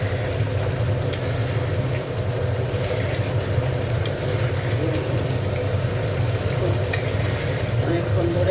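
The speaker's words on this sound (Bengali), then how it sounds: "দেখো মশলাটা অনেকক্ষণ ধরে কষে নিয়েছি, আর গন্ধ বেরোচ্ছে না কাঁচা মশলা।" Spices sizzle and fry in a pan for a vegetarian soybean curry while being stirred, a steady crackling hiss with occasional sharper scrapes, close by with faint background hum.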